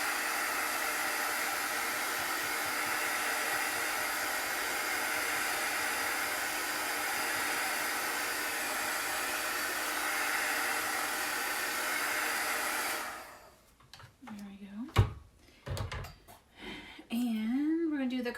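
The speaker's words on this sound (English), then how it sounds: "I'm going to assist the drying time with my heat gun here." A heat gun blows over chalk paste on a silk screen, a loud, steady hiss and whir for about thirteen seconds, then it cuts off and a few clicks and handling noises follow.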